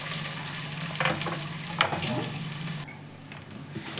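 Chopped onion dropping into about half a cup of hot oil for a mushroom gravy, a steady close sizzle with brief clatters and stirring, easing slightly quieter toward the end.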